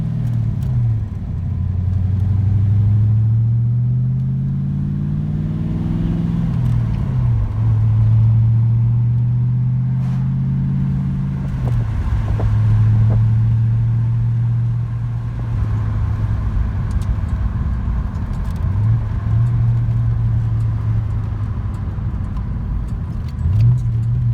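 A Ford Fox-body Mustang 5.0 engine pulls in second gear from inside the cabin, its loud low drone rising and falling in pitch through several gentle shifts and throttle changes, with no talking.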